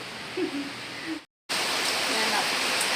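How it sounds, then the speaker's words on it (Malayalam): A constant rushing hiss of heavy rain fills the clip, broken by a brief silent cut midway, with faint murmurs under the noise. "പുറത്ത് ഭയങ്കര മഴയാണ്"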